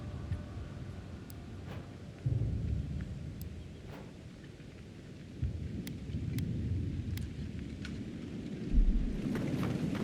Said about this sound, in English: See if we can get ahead of whatever storm